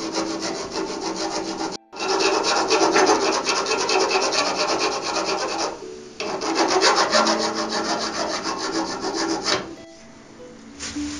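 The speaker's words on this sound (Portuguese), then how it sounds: "Lixar os pinos que nós acabamos de cortar para deixá-los no nível da madeira." Wooden pins cut flush being sanded level with the wood while making a wooden sword, steady close rasping strokes in long runs broken by two short pauses.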